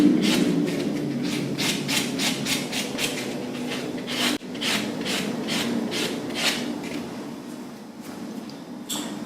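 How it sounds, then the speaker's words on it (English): Hand file rasping over an acrylic nail infill in quick repeated strokes, a rhythmic scratchy rubbing close up with a short pause midway, no talking. "You can also refine it by hand by using your hand file just to finish off."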